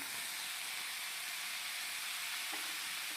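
Small onions and chopped tomatoes sautéing in an iron kadai for chutney, giving a steady, even frying sizzle and hiss throughout with no talk.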